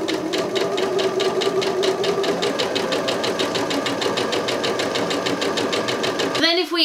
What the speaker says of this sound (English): we're just going to backstitch just a little bit back over the tag and then forward again